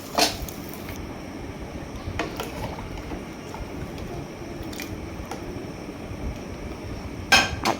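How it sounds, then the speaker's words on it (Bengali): Rice and lentils for khichuri are stirred in a cooking pot, giving soft scraping under a steady background hiss, with a few sharp metallic clinks of the utensil against the pot. "চাল ডাল দিয়ে ভালো করে নেড়ে নিচ্ছি আমি"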